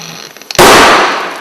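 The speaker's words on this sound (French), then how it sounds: "des étincelles, puis une fuite enflammée de batterie, une explosion" A shorted battery in a workshop crackles with small sparks before bursting into a loud, sudden flaming blast that hisses and slowly fades.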